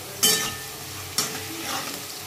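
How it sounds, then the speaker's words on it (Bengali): Potatoes and chili are stirred in hot oil, two quick scraping stirs over a soft continuous sizzle, close by. "তারপরে আলুটা দিয়ে ভালো করে নেড়ে লঙ্কা দিয়ে এরকম করে ভেজে নেবেন"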